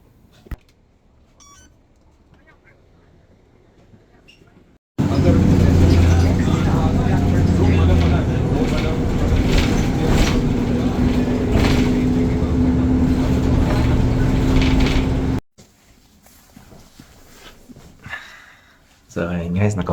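A city bus in Canada rumbles loudly for about ten seconds of the ride home, a dense, steady engine and road roar between quieter stretches where a voice talks.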